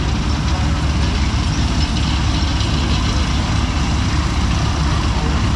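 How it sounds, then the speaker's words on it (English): A small crawler tractor engine runs at a steady, loud drone, a constant low rumble close by with no break over several seconds, during a plowing event. "little crawler tractor here coming along."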